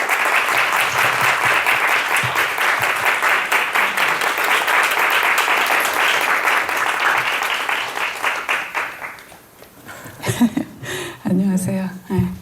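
A book talk audience claps at length to welcome the author, dense sustained applause for about nine seconds that fades out before people begin speaking.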